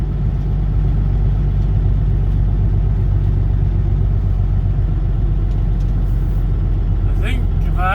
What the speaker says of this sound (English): Definitely gonna have to drive on the grass.